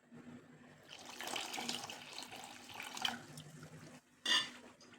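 Water pours into a bowl of overnight-soaked semolina, a running splash that builds and fades, with a brief louder splash and clink near the end, no talk.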